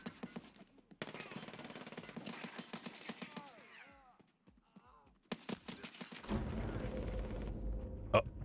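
Video game gunfire rattles in rapid automatic bursts separated by brief pauses, loud and close, with other game sounds in between and a heavy rumble near the end.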